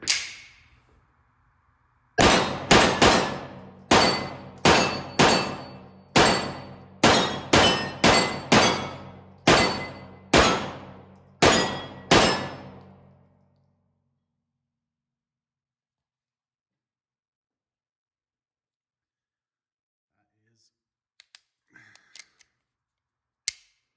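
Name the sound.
9mm pistol shots with Griffith Guns GG92 compensator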